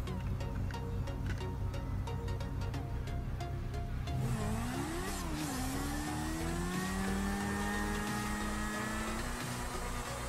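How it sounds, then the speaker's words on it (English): A PCJ-600 motorbike engine in GTA 5 idles low, then revs up sharply and climbs through rising gear tones before easing off, fairly quiet and heard alone. "This one is a motorbike. It's the PCJ-600."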